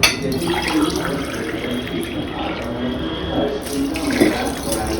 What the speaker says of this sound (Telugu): ఒక గ్లాస్ వాటర్ వేయండి.